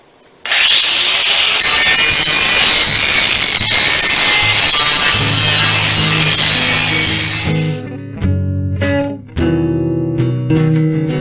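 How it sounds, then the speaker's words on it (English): A grinder grinds metal pieces up close, a loud sustained whine and rasp of contact that eases off, then sputters into shorter bursts and clanks as work pauses and restarts. "let's get to grinding this up a little bit"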